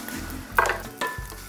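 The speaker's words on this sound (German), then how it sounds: "schneide es in kleine Würfel und röste sie kurz noch in Butter knusprig" Small bread cubes crisp in butter in a pan, a soft sizzling rustle with a couple of brief stirring scrapes and clinks, close up and without talk.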